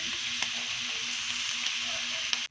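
Steady sizzling of sauce hitting sautéed spicy squid adobo in a hot pan, a constant broadband hiss with a couple of faint utensil clicks, close and alone without talk.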